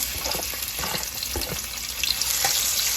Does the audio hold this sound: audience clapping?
no